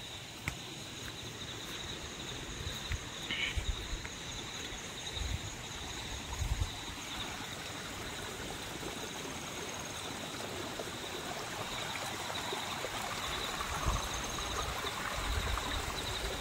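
A small stream of drinkable water flowing, a steady, faint rushing wash with insects chirping and a few soft knocks, no voices.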